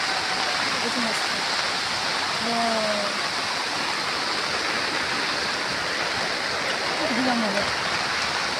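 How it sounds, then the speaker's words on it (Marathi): Steady broadband rush of the Juinagar waterfall in Navi Mumbai, a constant loud wash of falling water with brief voices surfacing faintly over it. "हा जुईनगर धबधबा आहे."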